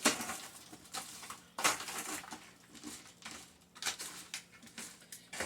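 Chicken breasts and granulated garlic being stirred in olive oil in a pan, with scattered scraping and clattering knocks of a utensil against the cookware, irregular and close.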